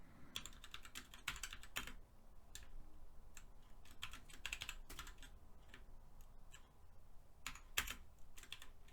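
Quiet typing on a computer keyboard during a programming lecture on stacks, with irregular bursts of key clicks, a few pauses and a louder keystroke near the end, and no talking.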